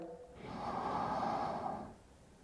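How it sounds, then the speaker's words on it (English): A long, deep breath drawn in during a vinyasa yoga class, swelling to a steady airy rush for over a second before fading, close and fairly quiet with no talk. "Keep breathing deep down into your belly."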